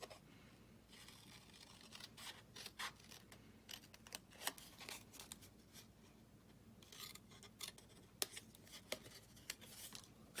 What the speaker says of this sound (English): We're going to cut up and cut these side panels off.